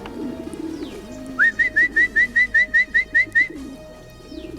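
A racing pigeon back from a 320 km race lets out a rapid run of about a dozen evenly spaced, rising whistle-like notes, close and clear over quiet outdoor background with a faint low hum.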